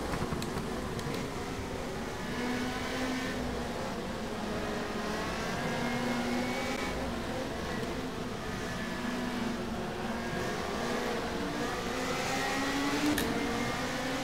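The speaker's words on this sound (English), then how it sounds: "Trying to see where I can hear cars all around me" Race cars drive around in the rFactor 2 racing game played in VR, with engine tones rising and falling steadily as nearby cars hold revs through the whole stretch.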